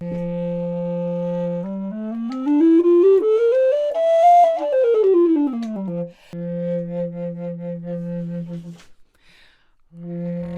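A low, breathy recorder plays sustained notes, with one long phrase sliding smoothly up and back down before settling on a steady held tone.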